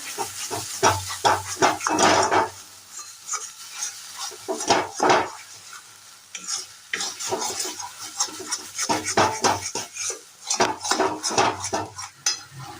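Fish kachori filling, salted and drying toward a crumbly texture, stirred in a pan: repeated scraping and clinking of a spoon against the metal in uneven bursts, with a light sizzle beneath, close and fairly loud, no talking.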